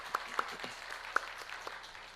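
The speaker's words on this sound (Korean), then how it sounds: "우리 찬양을 하신 하나님께 영광의 박수 올려드립니다." A church congregation applauds during a worship service: soft, fairly distant clapping with a few sharper individual claps standing out, quiet overall.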